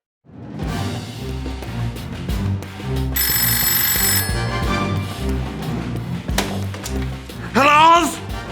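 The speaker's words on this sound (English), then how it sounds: "That's the phone." A telephone bell rings once in a burst of about a second, set against busy music with a voice rising at the end.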